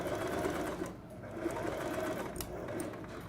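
A sewing machine stitches curtain fabric in a steady fast whirring run, close and clear, with a brief slowdown partway through before resuming.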